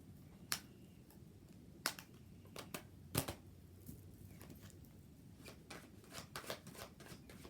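A tarot card deck is shuffled quietly, with soft, scattered snaps and riffles spaced irregularly against a faint background.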